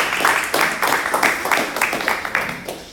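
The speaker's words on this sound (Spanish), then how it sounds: "así que lo recibimos con un fuerte aplauso." Audience applause welcoming a speaker at a sports biomechanics talk: a roomful of people clapping loudly and steadily, with a rhythmic pulse in the clapping and faint voices underneath.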